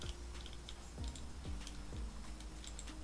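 Computer mouse clicks in a quiet room while installing software on a PC, a few sharp short clicks spaced out, including a quick double click, close and clear with no talk.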